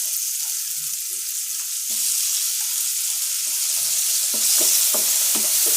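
Onion and tomatoes fry in a pan for a red pumpkin bhaji, a constant bright sizzle with scattered scraping and clinking strokes of a spoon stirring, growing slightly louder near the end.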